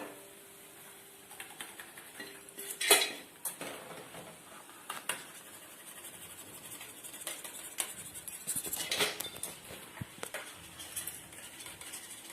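Metal utensils scrape and clink against a pan and container as crispy fried kaara boondi is scooped out, a steady scratchy clatter with a sharper knock near the start and a busier burst later.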